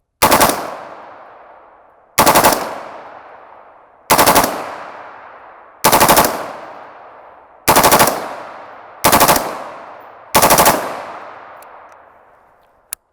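A rifle fitted with a bump fire stock fires seven loud, evenly spaced bursts of rapid shots about two seconds apart, each blast ringing out and echoing as it decays, close and dominant with no talk.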